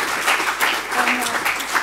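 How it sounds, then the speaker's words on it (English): Conference audience applauding panelists after a venture capital and dealmaker panel in Shanghai, a short stretch of steady, moderately loud clapping filling the room. "let's give our VC panelists and Dealmaker panelists a round of applause"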